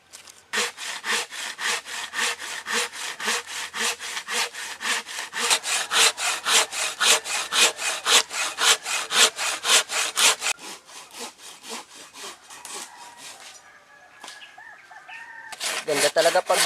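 A freshly sharpened hand saw cuts dry wood outdoors in the wild, with fast, loud rhythmic back-and-forth strokes for about ten seconds, then slower scraping strokes, while a rooster crows faintly in the distance.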